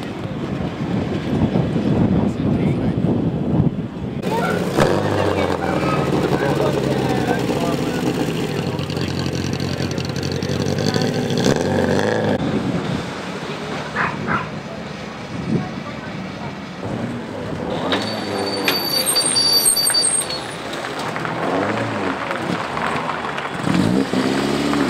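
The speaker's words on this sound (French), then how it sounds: "Roger Duvernay, Patrice Delmas, à l'instant, à bord de la BMW 2002 TI." A BMW 2002 TI historic rally car at the Monte-Carlo Historique passes on a rally stage, its engine note rising and fading under wind buffeting, with a commentator talking over much of it.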